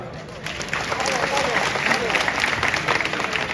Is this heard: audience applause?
yes